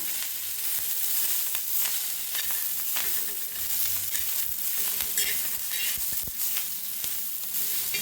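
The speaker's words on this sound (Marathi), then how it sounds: "आता टाकूया कोथांबरी पुन्हा मिक्स करूया सगळ्याला" Roasted red chillies with peanuts, garlic and coriander stirred together in a hot pan for a village-style chilli thecha, crackling sizzle with repeated scraping strokes and a few sharp knocks of the spatula.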